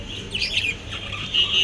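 Caged pet birds chirping close by, a short run of bright tweets and squeaks, moderately loud over low background hum.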